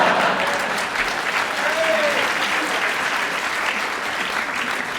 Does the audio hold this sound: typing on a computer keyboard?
no